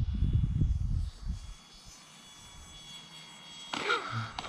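Electric motor of a Freewing Pandora RC model airplane powering up on a touch-and-go landing: a loud buzzing whine for about a second that fades to a faint hum, then a brief rougher burst near the end.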